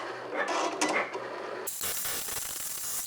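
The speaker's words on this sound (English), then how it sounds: "We'll click the little Cricut Make It button, and here it goes." A Cricut Make cutting machine working through cardstock gives a steady close mechanical whir and rasp, with a shift partway through to a brighter, hissing motor drone.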